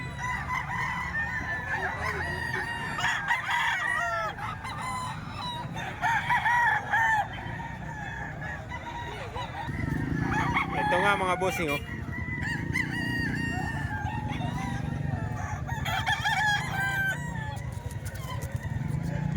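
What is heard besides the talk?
roosters crowing at a chicken market in Calumpit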